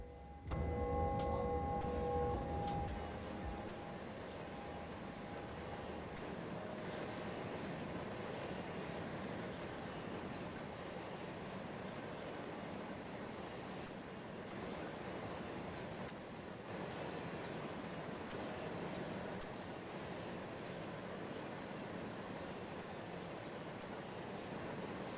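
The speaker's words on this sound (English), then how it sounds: "It's a long train, you know." A long mixed freight train rolls along in the SimRail railway simulator, giving a steady, continuous rumble of wheels and wagons. A brief louder tonal sound opens the sequence before the even rolling noise settles in.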